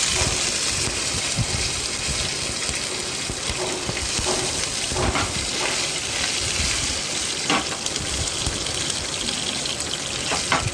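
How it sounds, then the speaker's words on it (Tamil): Curry leaves and green chillies hitting hot oil in a pan, a loud dense sizzle and hiss that holds steady throughout with brief stirring scrapes. "இப்போது கருவேப்பிலையும் பச்சை மிளகாயும் ஆட் பண்ணணும்."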